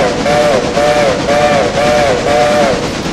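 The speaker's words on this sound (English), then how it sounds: "If there was an emergency, you would blow the whistle like..." A steam locomotive whistle in the video game Railroader sounds five short, loud, evenly spaced blasts over a rumbling rail background.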